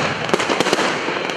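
Fireworks salute over the city of Anapa in the evening, a dense continuous crackle and rumble with several sharper bangs standing out, loud and without speech.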